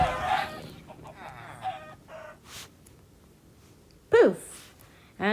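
Minecraft chickens cluck in short scattered bursts around a giant structure, with a louder squawk near the end and gaps of quiet between calls.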